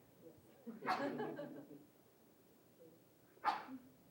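A person sneezes twice in a quiet room, a fuller burst followed a couple of seconds later by a shorter, sharper one, both fairly close.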